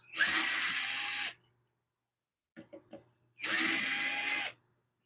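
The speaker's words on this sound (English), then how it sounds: "we're going to take the screwdriver here, the power wrench or power screwdriver, and we remove these" A power screwdriver whirs in two short bursts, backing screws out of a wood lathe plate, with a few light clicks of handling between them, close and fairly quiet.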